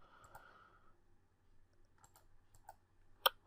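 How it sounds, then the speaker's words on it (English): Mouse buttons click during an online poker session, a few faint scattered clicks in a quiet room, with one sharper click near the end. "Stop clicking the wrong button, Reggie."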